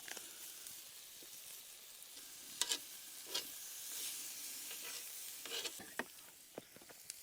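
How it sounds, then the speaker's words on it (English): Seasoned beef or chicken for burritos sizzling in a pan at a campsite, a constant frying hiss broken by several sharp scraping stirs and tosses, no talking. "then I'll toss that a few times and just let the juices of the meat"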